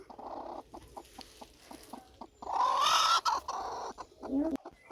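A brooding hen sitting on sixteen eggs gives soft, repeated clucks, with a louder burst of fowl calls in the middle. Other nearby noise sits under the calls.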